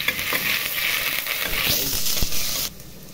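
Onion dropped into hot vegetable oil, a loud crackling sizzle with scraping stirs, which cuts off abruptly near the end and leaves a quieter hiss.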